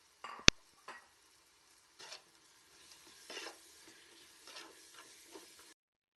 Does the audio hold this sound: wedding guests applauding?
no